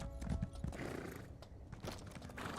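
A horse in Elder Scrolls Online trots with brisk rhythmic clip-clopping hooves and gives a short whinny, close and moderately loud, with game ambience behind.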